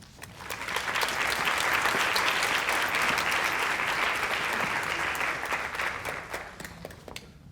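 An audience applauds the Newton County School System's 2019 Teacher of the Year, with scattered claps swelling into full, steady applause that tapers off toward the end.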